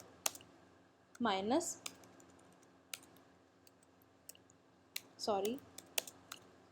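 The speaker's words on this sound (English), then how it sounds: "You can check this by going to the terminal again and type command Laravel" Brief clicking keystrokes on a computer keyboard entering a terminal command during a Laravel installation, scattered soft taps between two short spoken phrases.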